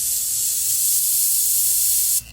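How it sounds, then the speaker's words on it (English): Brake cleaner sprayed from an aerosol can on a Lamborghini Jarama, one continuous close hiss lasting about two seconds before cutting off sharply. "All right, let's put some brake cleaner."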